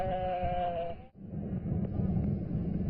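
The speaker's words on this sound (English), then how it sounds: "Hulun Lake still remains a popular watering spot for the many sheep grazing nearby." A sheep grazing by Hulun Lake in Inner Mongolia gives one sustained wavering bleat close by, followed by open outdoor rumble and faint distant sounds.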